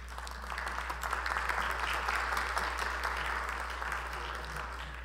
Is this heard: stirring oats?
no